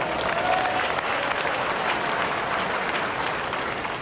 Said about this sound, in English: A lot of sympathy in that applause for Derek Ripley.